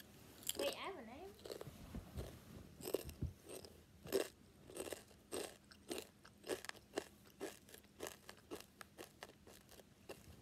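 Spicy chips crunched and chewed up close in a series of sharp, rhythmic bites, with a voice briefly heard near the start.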